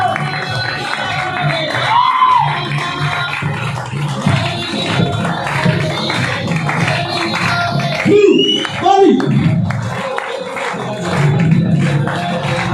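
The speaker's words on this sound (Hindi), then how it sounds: "ताली लगातार बढ़ती रहनी चाहिए" Dense, loud applause and cheering from a seminar audience in Bilaspur, Chhattisgarh, a continuous clatter with shouts and a voice over a loudspeaker rising through it.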